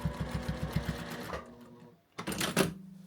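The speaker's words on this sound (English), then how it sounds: "So now we're just going to sew." A home sewing machine stitching a quilt, with a rapid, steady needle rhythm that runs, pauses briefly, then resumes with a louder whir; close and clear, with no talking.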